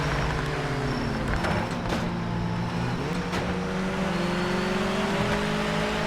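A race car engine during qualifying in the video game Project Motor Racing on PS5, a continuous loud droning whine rising steadily in pitch with a few sharp clicks from gear shifts.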